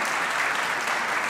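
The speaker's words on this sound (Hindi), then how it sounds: "तालियां होनी चाहिए इनके लिए।" Applause from a studio audience at a Pakistani comedy talk show, a dense, uniform wash of clapping with no breaks, moderately loud and heard without talk.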